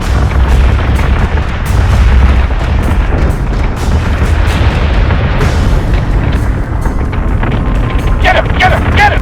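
Starship guns firing in Battlestar Galactica: Deadlock, a dense, continuous barrage of deep booms and blasts with rumbling low end throughout, sharper crackling bursts near the end.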